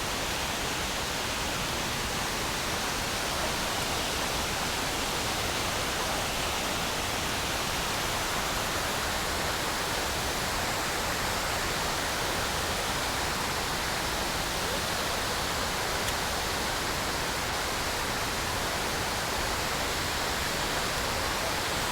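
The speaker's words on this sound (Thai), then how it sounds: "แค่ฟังเสียงตกก็รู้ว่า น้ำเยอะจริงๆนะ" Steady, dense roar of Kroeng Krawia waterfall in Sangkhla Buri, Kanchanaburi, a broad hissing rush of heavy falling water that stays constant throughout with no voices.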